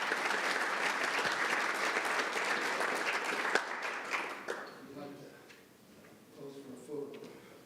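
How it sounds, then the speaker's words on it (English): Audience at a city council meeting applauds City of Aurora Public Works with dense, steady clapping that fades after a few seconds into scattered claps, quiet room noise and faint voices. "Let's give the City of Aurora Public Works an outstanding round of applause for what they delivered."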